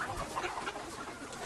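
A chicken clucks close by in a few quick, short bursts, clear and alone.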